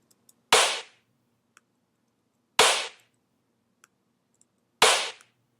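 Three sharp snare hits, an EQ'd sample with the low end removed and layered with noise for a moombahton drop, each a crisp noisy crack with a short tail, spaced about two seconds apart, with faint clicks between.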